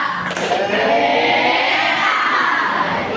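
A primary school class of sixth graders chants and claps together in a loud, continuous crowd of young voices, steady and close throughout.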